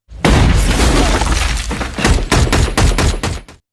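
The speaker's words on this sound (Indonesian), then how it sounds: "tembakan yang Sam lepaskan malah menyebabkan dirinya berakhir terkena rentetan timah panas dari Jen." A sustained burst of rapid gunfire, loud and close, with sharp repeated cracks that continue for several seconds before cutting off.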